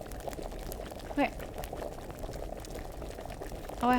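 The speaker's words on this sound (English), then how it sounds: "Oh, I have to wait for it to stop bubbling?" A potion bubbles while brewing over heat in Kingdom Come: Deliverance, a steady close simmer of popping bubbles, with a couple of brief vocal sounds on top.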